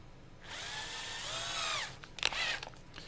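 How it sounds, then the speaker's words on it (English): A cordless drill switched to its fast setting whines steadily at high speed for about a second and a half while boring all the way through a workpiece, then winds down, followed by a few short clicks and a brief second burst. "And I'm going to drill this all the way through."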